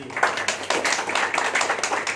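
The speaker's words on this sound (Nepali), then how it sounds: "तालीले के भन्छ दाइले आफै बुझिदिनु होला" An audience claps at a multipurpose cooperative's eleventh anniversary event, a moderately loud, close run of fast, uneven hand claps sustained throughout with no talk over it.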